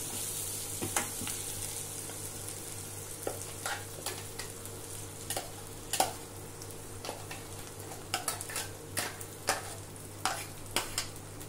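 Ground gongura paste cooks in a pan with fried onions, ginger, garlic and turmeric, giving a low steady sizzle under frequent sharp scrapes and taps of a spoon stirring against the pan.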